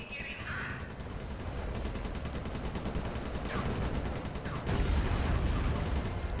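Rapid gunfire from the video game Sly 3: Honor Among Thieves rattles in dense, continuous machine-gun-like bursts that run throughout and grow slightly louder toward the end.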